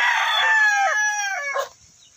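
Rooster crowing at a chicken farm in Calatagan, Batangas: a loud, close crow drawn out over about two seconds, with other fowl faintly behind.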